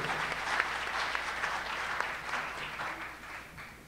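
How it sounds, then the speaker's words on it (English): Audience applause at the 2017 Philadelphia Independent Film Awards ceremony: a steady, full wash of many hands clapping that holds for several seconds, then eases slightly toward the end. "Give them a round of applause for what you already got."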